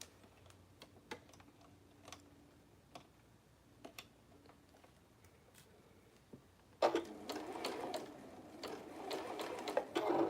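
A sewing machine stitches fabric along a curve, first in soft, sparse ticking stops and starts, then running loudly and steadily for the last few seconds close by.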